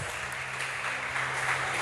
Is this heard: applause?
yes